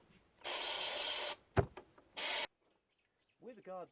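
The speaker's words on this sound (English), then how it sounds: "I'm going to give that a squirt down each of these holes and make sure that I get plenty of it in there" Fisherline rust protection spray squirted into the bolt holes of a Land Rover 109 during a rebuild, two sharp hissing bursts, a long one then a short one, with a clunk between and a brief voice at the end.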